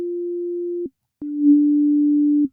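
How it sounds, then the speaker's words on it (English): A plain sine wave bass tone from the Caustic 3 synth app sounds in two steady, pure sustained notes with a short gap between them, clean and alone. "See, you're getting just a straight up sine wave."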